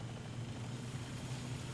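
Helicopters in the War Thunder video game produce a steady, faint rotor and engine drone, continuous and distant with no other sounds.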